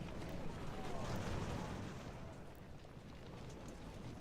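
Distant rolling musket volleys and cannon rumble from a Revolutionary War battle in the strategy game Ultimate General: American Revolution, a continuous dull roar of massed fire with no distinct single shots.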